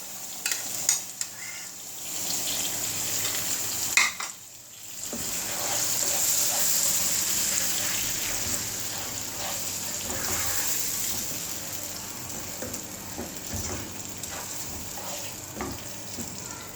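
Onion, tomato and yogurt masala for chicken pulao sizzles and fries steadily in a pan, with stirring scrapes and a brief gush of water midway.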